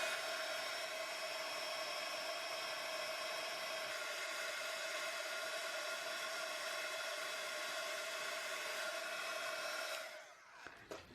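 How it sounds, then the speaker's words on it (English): A heat tool blows steadily on an art journal page, a loud, even whirring hum with a bright tone that runs unbroken for about ten seconds before cutting off. "First I'm gonna use my heat tool on."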